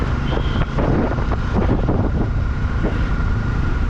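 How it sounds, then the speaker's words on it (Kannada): Strong wind buffets the microphone in heavy, rumbling gusts, with a vehicle engine droning underneath throughout. "ಇದು ಬೇರೆ ಜೋರ ಗಾಳಿ ಬೀಸ್ತಿದೆ."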